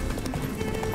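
Roach the horse gallops in The Witcher 3 video game, hooves beating in quick, close clip-clops over one brief second.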